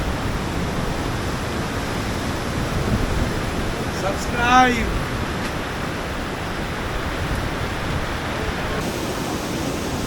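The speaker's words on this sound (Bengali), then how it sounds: "সাংঘাতিক বৃষ্টি হচ্ছে" Torrential downpour at the seaside in Mandarmani, a dense, steady wash of rain noise filling the whole stretch, with a brief voice breaking through midway.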